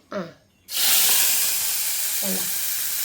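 Ginger dropped into hot coconut oil in a clay pot bursts into a loud, steady sizzle that holds to the end, after a brief voice at the start and another short spoken phrase partway through.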